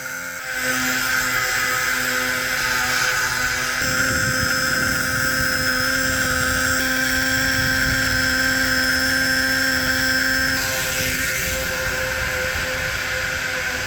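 A small toy nitro engine drives a generator that charges a scooter battery, giving a loud, steady, high-pitched whine and buzz that runs without a break for the whole stretch, with a slight shift in tone partway through.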